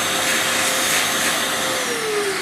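A vacuum cleaner, usable for blowing or suction, runs at steady power with a loud, close, continuous roaring whoosh and a faint whine that shifts slightly in pitch.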